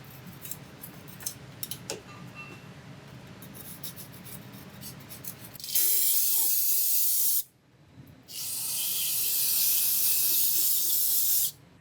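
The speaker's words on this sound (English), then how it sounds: "once again hitting it with a little bit of brake clean" Brake cleaner sprayed onto a Jeep Cherokee oil pan gasket surface, two loud close aerosol bursts of hissing, the first a short blast, the second longer after a brief pause, following quieter scraping sounds.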